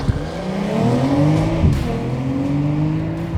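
A 2023 BMW M340i engine revs loudly and close, its pitch rising and falling through several swells with a sharp burst near the middle, no talk over it.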